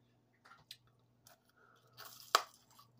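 Close, quiet chewing of a refrigerated dark-chocolate-filled waffle cone, with a few crisp crunches and one sharper bite, irregular and sparse against near silence.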